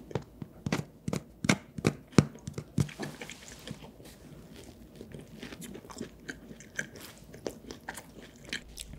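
Salt bread (sogeumppang) being bitten and chewed up close: a series of crisp crunchy bites in the first three seconds, then softer, quieter chewing continuing to the end, with no talking.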